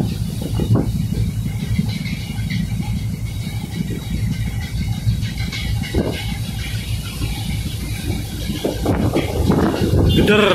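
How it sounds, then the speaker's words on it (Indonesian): A low, heavy ferry engine rumble drones throughout on the upper deck of a Sunda Strait ship, with wind buffeting the microphone, a constant throbbing vibration with a few louder gusts toward the end. "Geder banget kapalnya, bergetar."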